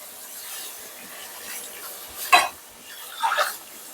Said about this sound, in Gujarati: તેને આ રીતે હલાવતું રહેવાનું જ્યાં સુધી ઘાટું ના થાય